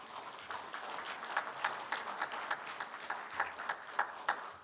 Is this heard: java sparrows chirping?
no